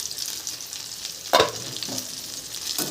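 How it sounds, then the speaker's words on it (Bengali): Pointed gourd (potol) pieces frying in a pan for a pickle-spiced fry, with a soft continuous sizzle and a brief louder clatter as the pieces are turned; no talking. "সবগুলোই উল্টে দেব, আবারও ঢাকা দিয়ে ওই দিকটা ভেজে নেব"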